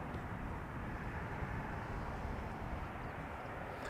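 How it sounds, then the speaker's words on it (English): A Boeing 737-700 arriving at Schiphol Airport, a distant, faint low jet rumble that stays steady and unchanging throughout. "This is a 737-700 arriving from Milan."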